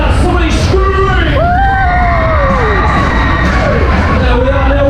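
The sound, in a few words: crowd screaming at the Ice Jet ride, Hoppings fair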